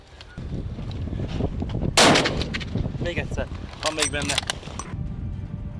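A single sharp, loud gunshot cracks out during a crocodile hunt in Papua New Guinea, surrounded by people talking before and after the blast.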